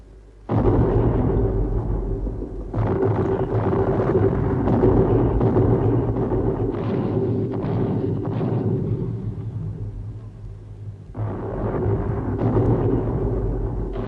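German heavy guns in a World War I bombardment of Verdun fire as deep, rumbling booms in rolling bursts. The blasts overlap into a continuous thunder-like roar, with one brief lull near the end before another surge.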